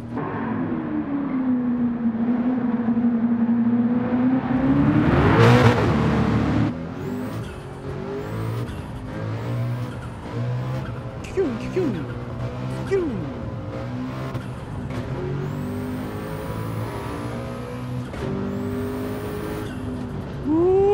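A Group C race car engine in Gran Turismo 7 revs and shifts over and over, with sharp hissing blow-off valve chirps between gear changes and dog-box gear whine, loud and close. Someone talks over it now and then.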